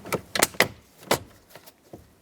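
Plastic steering column cover on a 2007-2014 Chevy Silverado 2500HD snapped into place, a series of close, sharp clicks and knocks in quick succession with a few softer taps after, no speech.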